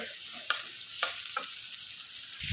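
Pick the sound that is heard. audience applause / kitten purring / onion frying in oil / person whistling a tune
onion frying in oil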